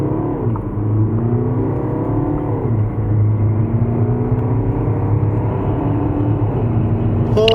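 A BMW X1 xDrive20d diesel SUV accelerates hard, its engine note climbing steadily in pitch with a gear change near the start and another rise partway through, loud and continuous with no talk.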